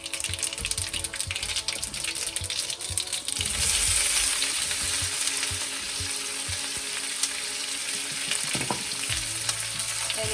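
Mustard seeds spluttering and popping in hot oil for a dhal tempering, a steady loud crackling sizzle with sharp pops, continuous throughout.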